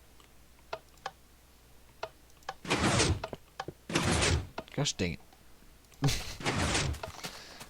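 A door in the game Minecraft, rigged with pressure plates, swings open and shut several times, giving sharp clunks and knocks among lighter ticking clicks, while a man briefly exclaims in frustration.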